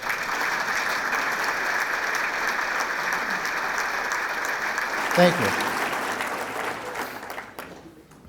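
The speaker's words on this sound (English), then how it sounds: "I think that deserves applause." At a city's state-of-the-city address, an audience breaks into sustained applause that stays level for several seconds, then thins and fades out, while a voice speaks briefly over the clapping.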